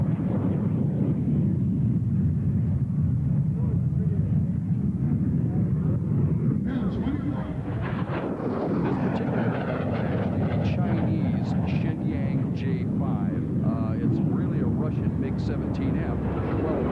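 A MiG-17F jet fighter flies past, heard as a loud, sustained rumbling roar with a gusty, windy texture that shifts in tone midway. Heavy speech-like noise may sit under it.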